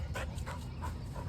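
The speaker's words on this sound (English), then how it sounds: "There's my dog" A dog outdoors gives a few short, faint barks and yips in quick succession at a distance, set against a low steady background rumble.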